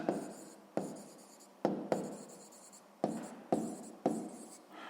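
Pen or pencil writing out a sixth-grade math answer on paper: a series of scratchy strokes, each starting sharply and trailing off, close and fairly quiet, with no talk.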